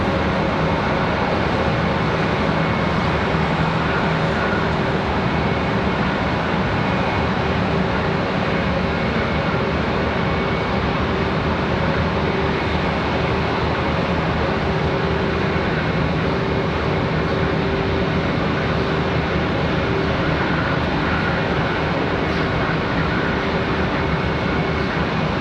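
A Southwest airliner taxis across runway 18 Center at Charlotte Douglas International, its engines making a steady, broad rumble and whine that holds evenly throughout, with no voices.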